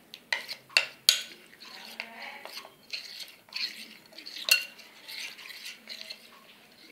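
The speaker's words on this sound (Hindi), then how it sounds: "इसको अच्छी तरीके से मिक्स कर लें ताकि इसमें गांठें ना रहें" A spoon whisks cauliflower manchurian batter with water in a bowl, giving repeated quick clinks and wet swishing strokes in an uneven rhythm, close and fairly quiet, with no voices.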